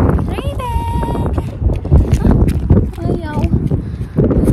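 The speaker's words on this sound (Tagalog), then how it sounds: "Grabe ang hangin, ang lamig." Strong cold wind buffeting the microphone outdoors in Canada, gusting rumble beneath someone talking throughout, with the blasts swelling and easing in waves.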